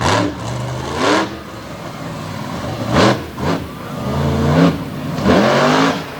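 The monster truck Stinger Unleashed revs hard as it charges a stack of buses at a Renegade monster truck event in Abbottstown, PA, throwing out repeated loud bursts of engine roar that rise and fall over a steady background rumble.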